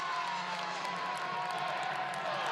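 A big arena crowd at a Wisconsin vs Minnesota NCAA women's volleyball match stands and cheers, a loud sustained roar with whoops and scattered clapping filling the space, with a commentator speaking over it.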